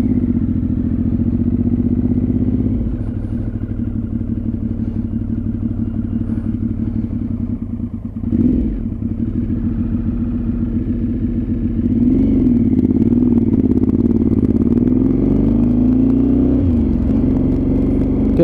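A Triumph Speed Triple 955 motorcycle with its big three-cylinder engine rides along a dual carriageway, giving a loud, close, continuous engine drone whose pitch climbs and swells as it accelerates, with no talking.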